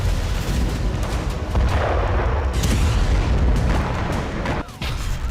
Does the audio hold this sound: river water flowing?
no